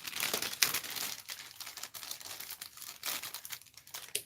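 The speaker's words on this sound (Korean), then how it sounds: "구독자 윤보님 구독자 이벤트 당첨돼가지고 선물 받은 거 언박싱 하고 있어요" Plastic packaging crinkles and rustles up close as a gift is unboxed, a continuous crackling that comes in uneven bursts and fades slightly toward the end, with no talk.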